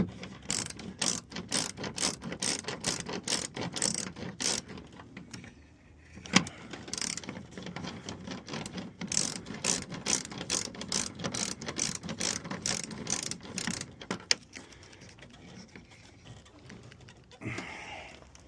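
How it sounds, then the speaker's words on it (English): Quick, steady clicking of a ratchet tightening a screw on the back hatch of a Trailblazer under restoration, close and loud in long rhythmic runs, pausing briefly with a sharp knock, then clicking again before trailing off. "I'm gonna finish tightening up this screw first."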